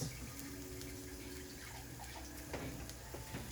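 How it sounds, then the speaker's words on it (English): Water pours and splashes steadily into a cooking pan for a few seconds, a close, continuous liquid rush with small gurgles near the end. "So I'm just gonna add a touch of water."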